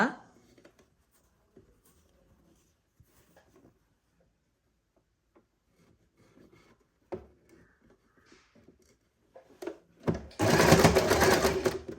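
Sewing machine stitching the slit of a churidar, one loud steady whirring run near the end after mostly quiet handling of fabric with light clicks and taps.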